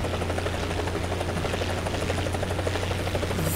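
A transport helicopter in War Thunder gives a steady rotor drone with a low rhythmic thump and engine buzz, sustained and fairly close, with no speech.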